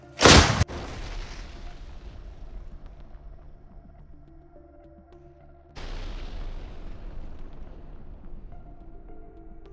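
An artillery gun fires with a sudden, loud boom that rolls into a long, fading rumble. A second, softer blast follows several seconds later and also trails off slowly.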